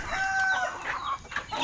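A spangle rooster, tied up among other backyard fowl, clucks and gives short crowing calls close to the mic, in several bursts with brief gaps between them.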